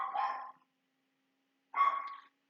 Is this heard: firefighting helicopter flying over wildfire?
no